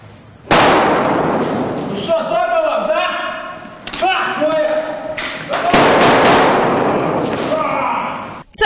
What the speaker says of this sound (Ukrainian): а поліцейські стріляють лише холостими